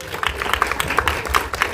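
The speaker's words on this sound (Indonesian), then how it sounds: "Boleh tepuk tangan dulu dong semuanya dong." Audience applause at a film press event, a short burst of crowd clapping with a dense, busy texture and a few sharper claps, fairly loud and steady for under two seconds.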